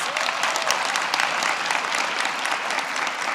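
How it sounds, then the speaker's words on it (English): An audience at a vice presidential event on lowering homebuyer costs claps steadily, a dense, even round of applause that holds throughout without voices on top. "let us give her a round of applause"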